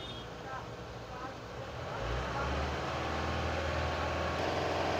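A Mahindra Bolero pickup with a BS6 engine rumbles at idle, then its revs rise to a steady, heavier drone about halfway through and hold there, low and continuous, with no clear climb to a high-revving roar.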